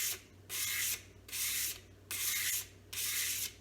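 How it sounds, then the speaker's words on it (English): Bark River Santos knife with a convex edge being lightly drawn back and forth to work the burr, four even rasping strokes with short pauses between, close and fairly quiet. "I'm just going to lightly pull the knife back and just try to work that burr back and forth."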